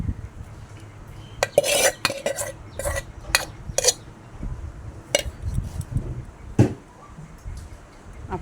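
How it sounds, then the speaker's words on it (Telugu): Spoon stirring fried garlic paste into a jaggery mango chutney in a pot, close scraping and clinking strokes in irregular bursts with quiet pauses between, no talking. "దానికి వెల్లుల్లిపాయ పేస్ట్ని నూనెలో వేయించి ఆ పేస్ట్ని కాస్త చల్లారనిచ్చి దాన్ని ఈ పచ్చట్లో కలుపుకోవాలి."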